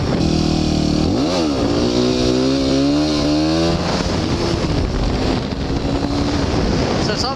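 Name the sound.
motorcycle revving while doing a wheelie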